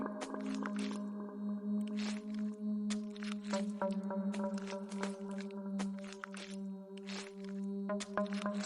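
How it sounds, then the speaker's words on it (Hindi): Steady footsteps tread at an even pace, soft thuds repeating under a low, sustained droning tone. "लेकिन जब वो फिर चला तो आहट भी फिर चलने लगी।"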